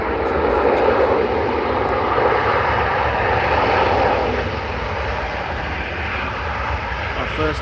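A Virgin Atlantic A330 airliner at Manchester Airport gives a loud continuous engine roar nearby that eases slightly toward the end, with a voice speaking over it.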